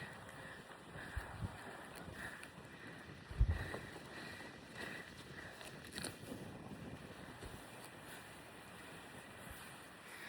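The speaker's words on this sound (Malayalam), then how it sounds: "നല്ല കാറ്റ് പോയിട്ടുണ്ട്." Gusty wind blows on a mountainside near Interlaken, Switzerland, a continuous low rumbling buffet against the microphone with a brief stronger gust, sustained and fairly quiet throughout.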